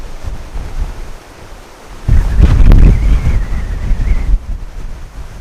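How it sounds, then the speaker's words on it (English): Wind gusting across an outdoor disc golf course, a steady broadband rush against the microphone that swells into a louder buffeting gust midway before easing back, with no talking. "it's kind of hard to know what the wind's doing right now."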